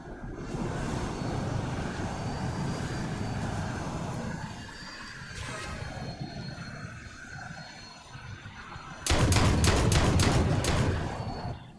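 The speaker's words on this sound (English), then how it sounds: "I'm trying to shoot the Valkyrie here" Rapid bursts of gunfire aimed at a Valkyrie aircraft in the Planetside 2 game, a dense volley late on that stands out loudly over a steady engine-like drone and a low background roar.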